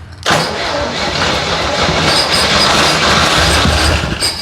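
A 1963 Jeep CJ5 engine, primed with carb cleaner, cranks and catches abruptly, then runs loud and rough close by for several seconds without pause.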